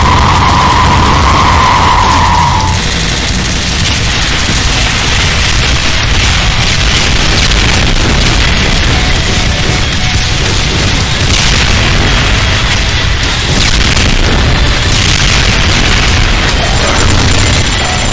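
A Revenant variant enemy in a Doom mod unleashes a scatter spread of plasmatic cannon shots: a dense, continuous barrage of loud booming blasts and crackling bursts that fills the space without pause.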